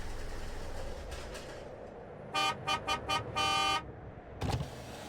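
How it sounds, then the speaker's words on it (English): A car horn at a naval base gate blasts four short toots, then one long held honk, loud and close, after a stretch of idling vehicle rumble and before a muffled thump. "Hey, why are you honking like that?"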